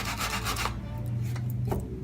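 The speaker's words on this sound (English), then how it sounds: "So I'm gonna just do a bunch of sanding right here" Hand sanding of painted wooden furniture, a steady close rasping rub that runs continuously with no pauses and no talking.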